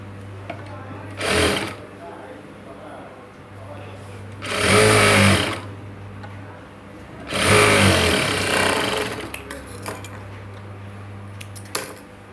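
A sewing machine top-stitches a blouse in three distinct runs, each a loud whirring burst, with a low steady hum and small clicks between them.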